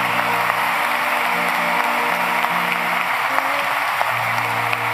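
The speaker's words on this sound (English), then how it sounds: "let's give them a round of applause" A congregation at a Holy Week Chrism Mass claps continuously, a dense, even roar of applause filling the church, with a sustained tonal musical backing.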